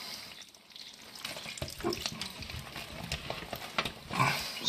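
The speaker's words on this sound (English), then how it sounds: "Just gonna get this water the right temperature." Tap water runs and splashes with uneven gushing bursts as the flow is adjusted to the right temperature before cleaning a blue-tongue lizard stuck in bitumen tar, fairly close and without talk.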